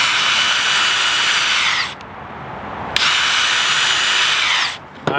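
A power drill pre-drilling a wood window sash for nails, two long whining bursts of the motor close by, separated by a brief pause and ending with a short stop and restart.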